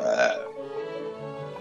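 A single loud, close human burp opens the clip, followed by fainter voices talking.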